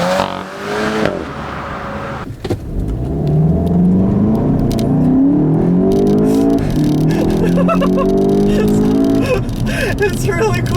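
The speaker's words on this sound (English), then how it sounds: "So let's put this baby in sport mode. I'll have the paddle shifters and let's do a little acceleration run" A 2015 Volkswagen GTI in sport mode with paddle shifters accelerates hard, its engine and induction noise rising loudly in pitch through the gears in a close interior recording, with a brief drop at a shift and talk over it.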